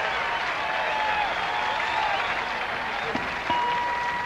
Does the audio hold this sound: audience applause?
yes